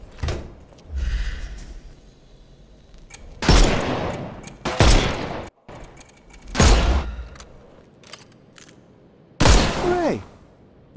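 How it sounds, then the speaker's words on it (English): Heavy gunshots from the Sherlock Holmes: Chapter One video game, several loud separate blasts spaced a second or two apart, some with metallic ringing, with brief speech between. "Shoot off their armour."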